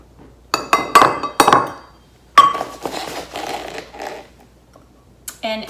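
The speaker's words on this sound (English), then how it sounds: "So I'm going to go ahead and grab my spoon, fill up my flour," A metal spoon scoops flour for a gluten-free sourdough starter, giving several sharp clinks against a hard container in a quick cluster, then scraping and lighter taps.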